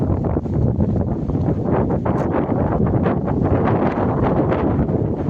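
Wind gusting steadily through big fruit-bearing plants outdoors, a continuous broadband rush with buffeting against the microphone and faint rustling, close and fairly loud throughout with no pauses.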